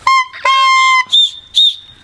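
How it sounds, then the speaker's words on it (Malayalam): A plain whistle is blown up close in four short blasts: two steady, clear toots followed by two brief, shriller peeps, with nothing else heard. "ഇനി സാധാ വിസിൽ നോക്കണോ?"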